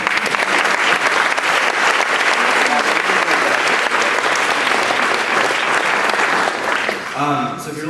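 Loud, sustained applause from a conference audience fills the room nearly unbroken for about seven seconds, thinning out at the very end as a voice starts.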